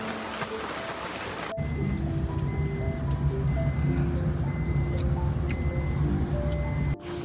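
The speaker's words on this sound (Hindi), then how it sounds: "अचानक मौसम ने मारी है पट्टी और हो गई है बारिश स्टार्ट" Steady rain falls in the mountains of Uttarakhand, a dense even hiss heard close by from inside a vehicle, with a low engine-like hum beneath and no voices.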